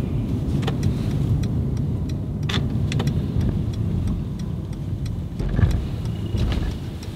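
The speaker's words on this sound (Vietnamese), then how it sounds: "Đó là cái thao tác mà đậu xe tự động của chiếc xe Mercedes-Benz S450 này." A Mercedes-Benz S450 eases itself into a parking space, its steady low engine and road hum running throughout with faint intermittent clicks and soft bumps, nobody talking.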